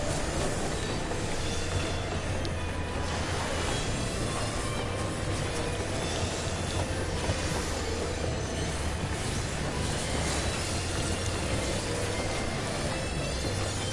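Train rumbling along in a Final Fantasy XIV dungeon, a steady loud rolling clatter of wheels on rails with faint squeals, continuous throughout with no talking.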